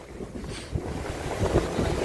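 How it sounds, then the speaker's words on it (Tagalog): Strong wind blowing by the sea during a storm gusts steadily as a rough, broadband rush with low rumbling buffets against the microphone, rising in bursts toward the end. "Dumating na naman yung hanging malakas."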